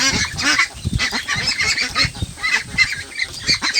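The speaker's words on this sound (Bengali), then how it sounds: "হাঁসগুলো বেশ বড় হয়েছে" A flock of Pekin (Peking Star 13) ducks honks and quacks loudly and continuously, many overlapping calls at close range with no speech.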